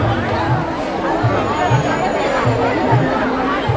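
A dense crowd murmurs at the Lalbagh flower show, a continuous babble of many overlapping voices close around, steady and fairly loud throughout.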